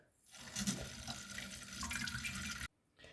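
Tap water runs steadily into a sink while sausage casings are rinsed under it, a close hissing splash that stops abruptly near the end before a brief trickle resumes.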